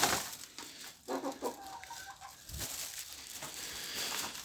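Hens cluck in short bursts close by, with rustling and scratching noises around them; no one speaks.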